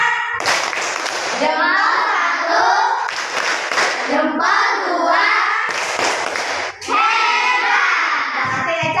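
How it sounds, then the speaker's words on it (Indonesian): Children in a classroom clap a rhythmic tepuk hebat chant together, sharp hand claps in bursts alternating with shouted chanting voices, close and loud, with a teacher's voice also present. "Untuk Eca kita kasih tepuk hebat dulu."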